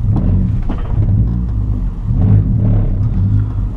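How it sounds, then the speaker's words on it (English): Engine of a manual transmission car pulling away as throttle is added and the clutch is let out, a steady close, loud low rumble that swells and settles with the revs, no talking. "I'm gonna give it some throttle and let the clutch out and let it grab a little bit"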